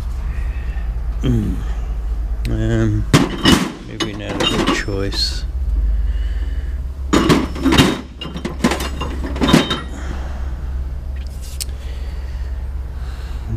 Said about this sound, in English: here I am over at that drawer, and let me pull one of them out